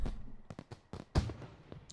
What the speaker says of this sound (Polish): Puszczamy fajerwerki.